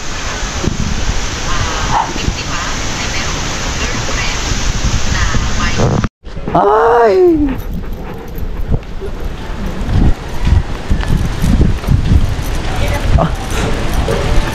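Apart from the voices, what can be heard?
strong gusty wind and waves at the beach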